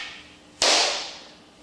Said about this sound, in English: This movement, swinging the foot forward and hitting the ball, is called a brush.